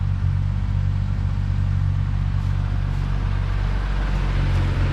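A 1971 Ford Maverick's biggest available six-cylinder engine runs steadily with a smooth, quiet low rumble, close and constant throughout.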